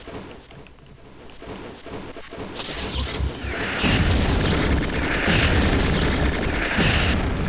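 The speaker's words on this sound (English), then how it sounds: "we made him explode in the chunks" Heavy BFG blasts in Quake tearing a boss apart in the Necromancer's Castle level, a rumbling roar that builds into sustained loud explosive bursts with crackling debris, growing more intense toward the end.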